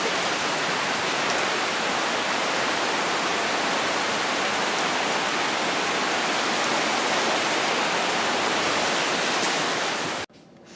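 A sudden heavy rain pours down outdoors, a loud, dense, continuous hiss of falling water that holds steady for about ten seconds before cutting off abruptly.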